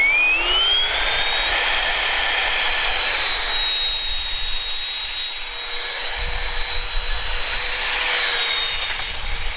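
Suction fan on a homemade RC F1 car with a foam board skirt, testing on a real road: a loud, continuous high-pitched whine with rising and steady tonal pitches, like a small jet turbine, close by.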